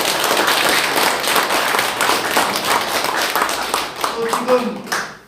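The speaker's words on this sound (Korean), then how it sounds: "크게 한번 박수를 쳐주시기 바랍니다" Audience clapping fills a Democratic Party core-member training meeting, dense applause lasting the whole moment and thinning toward the end, with a voice briefly audible underneath.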